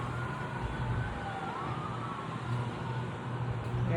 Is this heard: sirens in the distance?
yes